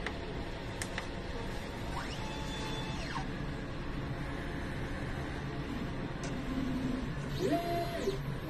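A printer runs a nozzle test, a steady mechanical whir with rising and falling motor sweeps as the print head moves back and forth.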